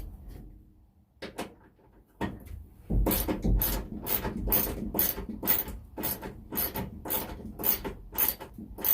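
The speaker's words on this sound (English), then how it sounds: "So removing those screws can be quite a workout, I found." Rhythmic rasping, ratcheting bursts repeat steadily as screws are worked loose from a van headliner, each stroke loud and close with short gaps between, following a few scattered clicks at the start.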